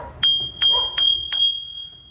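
A bell hung at a house entrance is struck four times in quick succession, each strike bright and ringing close by with a sustained metallic tone.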